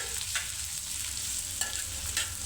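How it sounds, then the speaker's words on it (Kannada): Sliced onions fry in leftover oil in a pan, giving a steady close sizzle with a few soft stirring scrapes and clicks, and no voices. "ಅದೇ ಮಿಕ್ಕಿರೋ ಎಣ್ಣೆಗೆ ಫಸ್ಟಿಗೆ ನಾವಿಲ್ಲಿ ಹಾಕೋತಿದ್ವಿ ಸ್ಲೈಸಾಗಿ ಕಟ್ ಮಾಡಿರೋ ಆನಿಯನ್."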